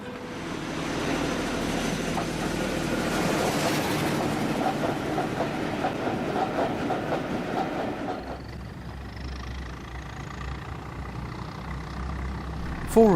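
A BR Blue Class 22 model railway locomotive running with tanker wagons, a continuous rolling rumble and clickety-clack of wheels on track that fades, then a quieter stretch with a high whine near the end.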